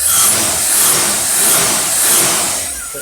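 A crew cab truck engine fitted with a Motorcraft 4300 carburetor idles at about 700 rpm, a steady, fairly loud broadband rumble and hiss with gentle swells, close by and with no talking.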